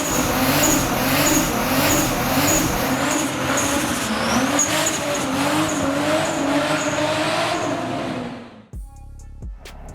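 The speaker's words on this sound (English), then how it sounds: "My favorite thing about Supras is the turbo spool, the noises, it's the drama" A Toyota Supra Mark IV with a 2JZ turbo engine roars steadily with a high whine from the turbo spool riding over it, loud and close, then cuts off abruptly near the end.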